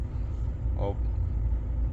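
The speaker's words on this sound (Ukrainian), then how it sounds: "я нічого не газую, холості оберти, машина стоїть." A parked VW Tiguan idles with a steady low rumble that stays constant throughout, while a person talks over it.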